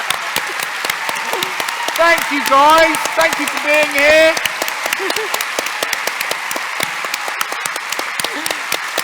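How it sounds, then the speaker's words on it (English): Audience applause at the close of a live speaking event, a steady crowd of many clapping hands filling the room while a speaker's voice and a few melodic vocal sounds rise over it near the middle. "Can I give you a clap now?"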